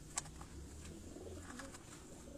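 Racing pigeons coo softly at a rooftop gathering, a few low murmuring calls over quiet background noise with one brief sharp tick near the start.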